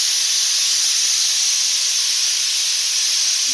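A pressure cooker releases steam after cooking dal curry, with one loud continuous hiss that holds steady and close the whole time.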